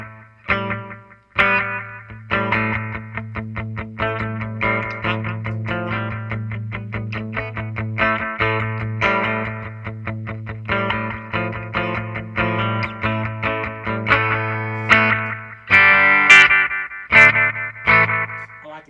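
Electric guitar played through a Donner Yellow Fall budget delay pedal, a steady riff with echoes repeating behind each note and a sustained low tone underneath, loud and continuous, with a brighter, busier burst of notes near the end.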